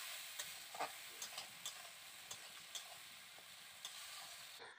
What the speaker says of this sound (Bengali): এবার ভালো করে মশলাটাকে কষিয়ে নিচ্ছি।